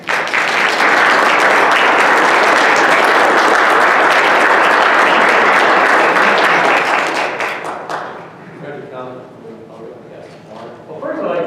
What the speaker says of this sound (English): I say that we give them a round of applause